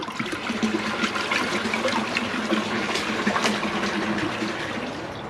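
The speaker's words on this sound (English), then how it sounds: "Thumbs up for a good flush." A 1977 Briggs Abingdon toilet with a high-mounted bucket tank flushes in one steady rush of gushing, trickling water that runs loud and continuous for several seconds, with no talking.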